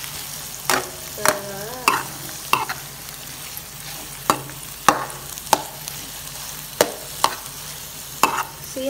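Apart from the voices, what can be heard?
stirring egg into sisig in a frying pan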